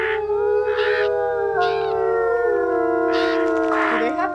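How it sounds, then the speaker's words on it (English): Wolf pups in the WolfQuest video game howl together, several long rising and falling tones overlapping in close, sustained chorus. "I want to hear you guys' howls."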